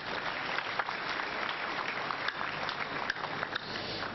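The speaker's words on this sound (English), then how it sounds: "clap for him." A church congregation at a Sunday service applauds continuously, a thick, even wash of many hands clapping throughout with no pause.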